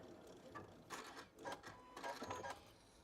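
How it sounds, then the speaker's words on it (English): A home sewing machine runs in short bursts while sewing a reverse stitch on a quilted envelope pillow, its rapid needle clatter rising and pausing several times at close range, fairly quiet, with no talking. "now there we go, there's our reverse stitch."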